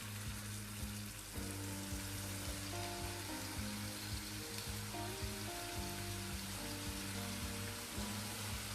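Pani puri dough of flour and semolina frying in hot oil gives a steady, dense sizzle with soft crackling bubbles, close and continuous with no talking.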